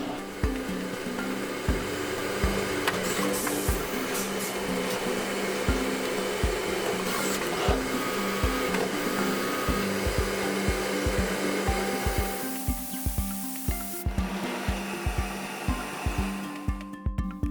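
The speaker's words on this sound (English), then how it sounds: "the micro-adjust knobs are turned out of brass at another CNC lathe" A CNC lathe turning brass knobs in a workshop, a continuous machine whir with a steady hum, later joined by regular sharp knocking or clicking pulses that grow more distinct toward the end.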